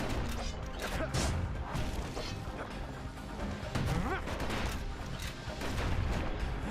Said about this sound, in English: Kids blasting everything in sight with that newfangled musket.